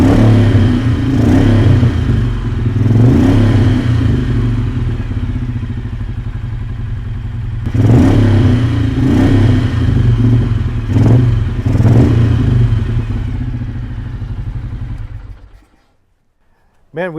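A Ducati and a Moto Guzzi, warmed up but still running cold, idle with a heavy throbbing rumble, rising in several revving surges before the engine cuts off near the end, loud and close.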